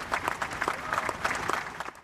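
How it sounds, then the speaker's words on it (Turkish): Applause at the White House signing of the normalization agreement between Israel, the UAE and Bahrain, a steady patter of many hands clapping continuously at moderate distance, with no voices standing out. "Filistin'i yok sayan anlaşmayı böyle alkışladılar."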